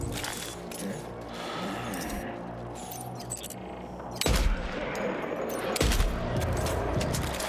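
Gunfire in the video game Death Stranding 2 sounds as bursts of rapid shots and mechanical clatter, with louder sharp blasts near the end, over game music and ambience.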